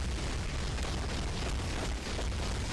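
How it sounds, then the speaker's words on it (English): Dense, continuous explosion noise from the video game Marvel Future Fight, a steady loud rumble of overlapping blasts with no clear gaps between them. "It really does sound like a miniature explosion is going on at every given time."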